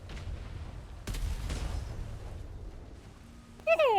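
Ship cannons fire in a naval video game, a heavy booming blast followed by a rolling rumble, then a low background hum and a brief tonal sweep at the end.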